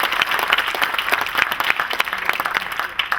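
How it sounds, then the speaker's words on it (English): An audience breaks into loud, dense applause at a talk with basketball player Wayman Tisdale, many hands clapping continuously and close for the whole stretch. "You can clap for that."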